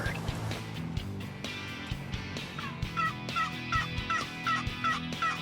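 A wild turkey gobbles repeatedly on an Indiana spring hunt, a rapid rattling call rising over steady background rumble and scattered knocks, several bursts in quick succession, moderately distant.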